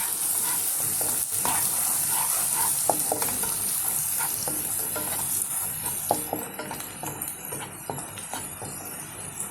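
Onion paste fries in a pan for village-style mutton curry, a dense continuous sizzle broken by frequent clicking stirs of a spoon against the pan.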